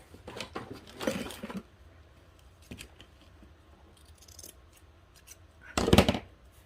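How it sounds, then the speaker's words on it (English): Large scissors snip close by in a few scattered bursts, with quieter rustling and handling of material between the cuts. "Need my bigger scissors there."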